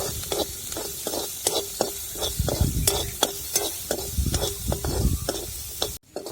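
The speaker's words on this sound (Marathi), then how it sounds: "आपण जो कांदा कापलेला आहे एकदम बारीक तो आपल्याला परतून घ्यायचा आहे" Finely chopped onion sautéing in oil in a kadai, a steady sizzle broken by rhythmic scraping and tapping of a spatula against the metal pan, close up and without voices.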